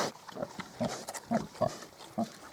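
Several piglets grunt and squeal in short bursts, about six calls spaced irregularly, close and moderately loud against a quiet background.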